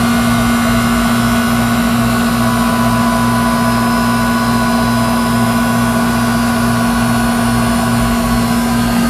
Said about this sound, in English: You heard that kick on. There goes the compressor.